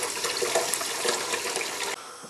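Sugar wash with its sediment poured from a container down a sewer drain, a steady splashing water rush that cuts off abruptly near the end and leaves a quieter trickle.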